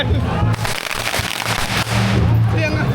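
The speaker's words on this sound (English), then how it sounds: "gonna do the firecrackers again" Firecrackers crackle and pop in a dense, continuous barrage in China, loud and close, with voices faintly mixed in.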